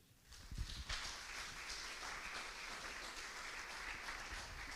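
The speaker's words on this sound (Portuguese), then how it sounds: "Aplauda o Senhor." A church congregation bursts into applause during a sermon, a steady wash of many hands clapping that starts quickly and holds evenly, heard at moderate distance with no talk over it.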